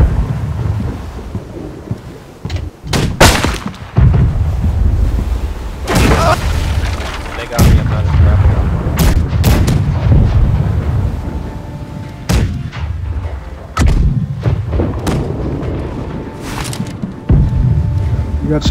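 Repeated heavy booms of ship cannon fire in the game Blackwake, loud and irregular, with background rumble and occasional voices between blasts.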